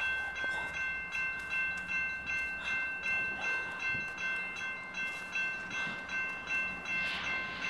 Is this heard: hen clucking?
no